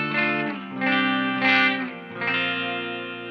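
Electric guitar played through a KingTone Rise v2 treble boost pedal, sustained chords ringing bright and full with a slightly sharpened top end, rising and falling in waves across a few seconds, close and alone.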